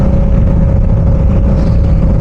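A Bajaj Dominar 400 motorcycle runs hard on a Konkan road between Mumbai and Murud, a loud continuous engine roar mixed with rushing wind and no voices.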